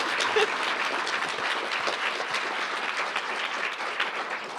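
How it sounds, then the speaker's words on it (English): Lecture audience giving a steady round of applause at a plenary talk on intercultural communicative competence, dense even clapping sustained throughout at moderate level with no talk. "Can we give a round of applause before we start?"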